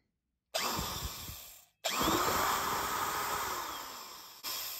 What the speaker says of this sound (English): This is a beefy drill, huh?